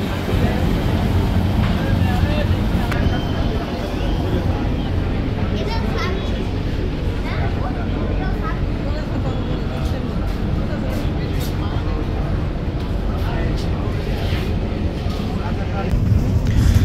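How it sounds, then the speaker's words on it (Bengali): Passenger launch Shuvoraj 9 turning and cruising on a river from Barishal toward Dhaka, a steady loud low engine drone with rushing water noise that runs unbroken throughout. "ইতিমধ্যে আমাদের লঞ্চ পুরো ঘুরে গিয়ে ঢাকার উদ্দেশ্যে চলা শুরু করেছে।"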